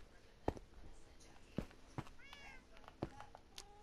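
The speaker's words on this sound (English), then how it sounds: "Yay, kitty cat." A small cat meows a couple of times in a video game, faint and high, between sharp footstep-like clicks and other quiet game effects.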